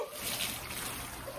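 Water trickles and splashes softly out of an ice bath, a brief, faint dribbling with light water movement.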